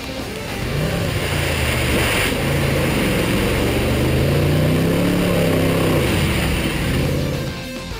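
A Land Rover Freelander grinds through sand dunes and a ford, its engine a loud, steady drone with shifting low pitch for the whole stretch, easing off near the end.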